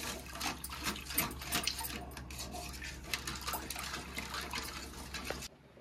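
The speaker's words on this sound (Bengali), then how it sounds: "এবারে জল দিয়ে দিচ্ছি। জল দিয়ে সাথে সাথেই ভালোভাবে নাড়তে থাকবো।" Water is poured into semolina in a pan for Bengali suji kesari halwa, then stirred briskly, giving a close splashing, sizzling gurgle with scraping and clinks that cuts off abruptly near the end.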